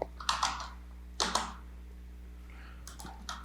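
Typing on a computer keyboard, heard as three short bursts of rapid close key clicks separated by quiet pauses.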